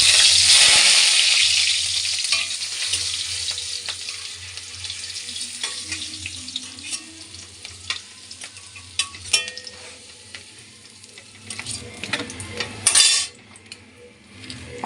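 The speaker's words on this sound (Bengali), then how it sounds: "বড়িগুলোকে আমি জালটা কম দিয়ে আস্তে আস্তে বড়িগুলোকে আমি ভেজে নেব" Bori lentil dumplings fry in oil on low heat after a black cumin and dried chili tempering, a loud sizzle that gradually softens while a spoon clinks and scrapes the pan repeatedly, with no talking.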